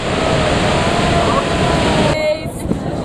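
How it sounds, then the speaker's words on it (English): A steady rushing roar of falling water fills the scene, then briefly dips near the end. "Here we have a little better view"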